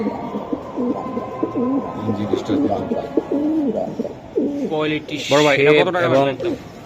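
Racing pigeons coo in low, throaty rolling calls close by, repeated under someone talking steadily over them.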